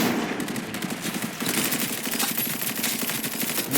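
Rapid automatic gunfire from a shooter video game rattles in fast, closely spaced bursts, loud and nearly continuous throughout.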